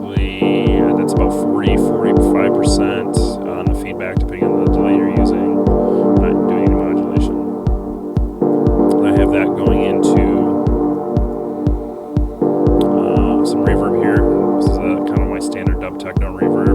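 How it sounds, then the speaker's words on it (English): A dub techno track built in Ableton Live, with a steady four-on-the-floor kick thumping under sustained chord stabs. The chords are washed in reverb and a dotted-eighth delay set about half wet, and the loop runs continuously without pause. "dub techno reverb."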